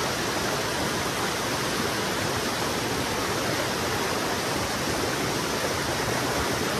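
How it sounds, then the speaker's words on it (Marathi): A strong stream in the Konkan region rushes steadily, a loud, unbroken broadband roar of flowing water close by with no pauses and no voices. "पाण्याचा प्रवाह एवढा आहे ना की पाणी आपल्याला खाली ढकलत नेणार"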